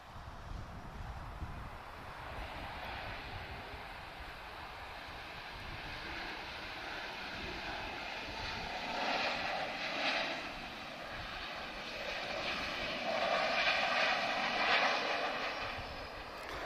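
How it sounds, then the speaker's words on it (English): A Ryanair airliner lands at Lisbon Airport and applies reverse thrust, a distant engine roar that swells into broad rumbling surges partway through and stays loud to the end. "Oh, here's Ryanair. Come on, give us a loud reverse."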